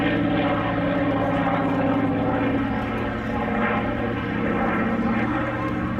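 A propeller warplane drones steadily overhead at the Flying Legends airshow, a loud continuous engine roar with pulsing propeller beat throughout.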